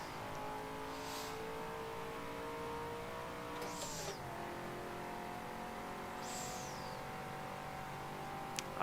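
A car engine drones steadily at high revs in the racing game Forza Motorsport 7 during a time trial, with a downshift midway and a few brief tire squeals. Loud, continuous and alone.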